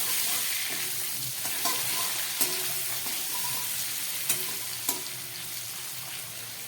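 Tomato pieces frying with salted, turmeric-coated potatoes in a pan, a continuous soft sizzle broken by a few sharp spatula scrapes and taps as the mixture is stirred, no voices.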